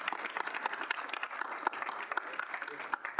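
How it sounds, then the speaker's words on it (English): Applause from a student senate meeting audience, a steady patter of many hands clapping, moderately quiet and even across the whole stretch. "If we can get a round of applause."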